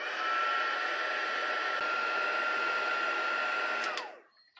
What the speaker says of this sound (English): now I'll use my heat tool to heat this up until that powder melts